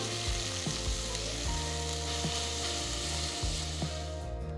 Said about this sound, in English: Now add 2 thinly sliced onions and saute until they turn golden brown.